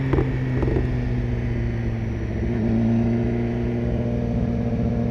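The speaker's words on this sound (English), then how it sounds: "I really hope you get the popping and crackling and, you know, the engine noise through the mic" A 2015 BMW S1000RR motorcycle engine drones steadily while riding, a close, sustained tone with a deep rumble and a slight rise in revs midway, mixed with wind rush.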